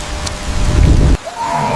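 Heavy rain falls on the African savanna as a loud, close wash with low rumbling, then drops away suddenly into a quieter steady hiss with a faint tone.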